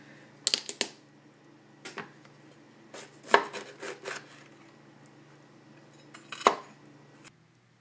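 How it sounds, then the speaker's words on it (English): A kitchen knife dices two bell peppers on a cutting board in irregular bursts of sharp taps and clicks, with short pauses between clusters of cuts in an otherwise quiet room. "Next we need to dice 2 bell peppers."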